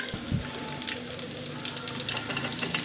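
Garlic hits hot coconut oil for a beef pickle, giving a continuous, fairly loud sizzle and crackle with scattered small pops and no speech.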